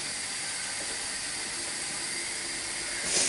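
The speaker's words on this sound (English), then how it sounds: "Yes, it's sizzling away nicely." A sauce for a fish pie sizzles steadily in a pan, an even close-up hiss with a brief louder burst near the end.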